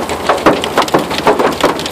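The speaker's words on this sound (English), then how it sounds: "There's golf ball sized hail coming down and it's beating up my window." Golf ball sized hail pounds a window during a freak hailstorm in San Carlos, Arizona, landing as a dense, loud clatter of rapid impacts with rhythmic surges, close by and with no voices.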